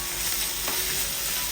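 Chilli powder and garam masala fry in a pan on low flame, a steady close sizzle with one brief stirring scrape.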